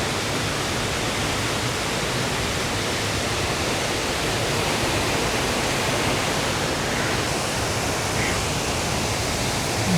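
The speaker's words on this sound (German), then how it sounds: "Ein tosender Wasserfall." A roaring waterfall seen from a via ferrata climbing route, a dense, steady broadband rush of falling water that stays loud and unbroken from start to finish, with no voices over it.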